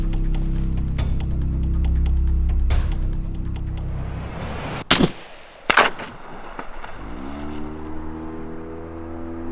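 Two sharp rifle shots crack out over a low boat engine hum during a seal hunt at sea, the first one loud and close, followed about a second later by another, then the engine note shifts and settles.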